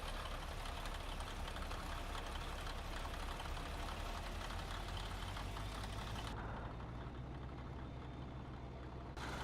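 A truck engine in Euro Truck Simulator 2 clatters steadily with a rough, knocking rumble. The clattering runs continuously, and the upper hiss drops away near the end while the low throb carries on.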